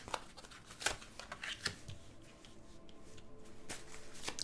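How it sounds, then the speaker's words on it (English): Tarot cards being shuffled by hand in repeated crisp riffling bursts and soft flicks, close and fairly quiet, with no talking. "Let's get the rest of the cards out, Spirit."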